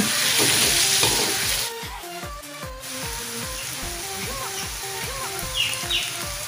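Onion and oyster mushrooms frying in a pan while being stirred, with loud sizzling and repeated rhythmic scraping of the utensil against the pan; faint bird chirps sound in the background.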